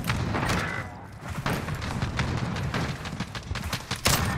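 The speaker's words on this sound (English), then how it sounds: "I just fucking sniped them" Video game shooter gunfire in a Search and Destroy match, with a sniper rifle shot among sharp repeated cracks and bursts over constant loud background noise, close and punchy.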